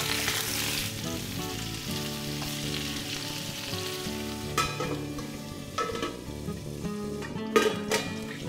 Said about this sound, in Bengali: তেলের ধোঁয়া উঠলে আঁচ কমিয়ে ঢাকা দিয়ে মাঝারি আঁচে পটলগুলো ভাজবে।